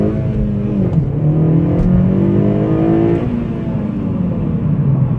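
Inside a 2014 Honda Civic Si sedan, 9th generation, as the engine is pushed hard, revs climbing in a rising growl, dropping briefly at a gear change, then climbing again, loud and close with steady road roar and no talking.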